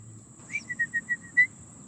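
A bird near a lake gives a short whistled call: a rising note, then a quick run of five or six even chirps, faint and close over a quiet outdoor background.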